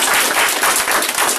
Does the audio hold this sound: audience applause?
yes